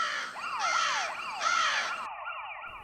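A crow caws several times in a row over a wavering siren-like tone, loud and close, used as an effect in a narrated story.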